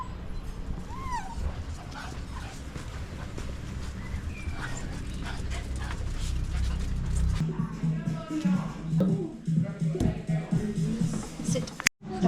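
A dog whimpers and yips in short bursts at a dog-friendly roadside food stop in North Wales, with a busy murmur of background noise and faint voices around it.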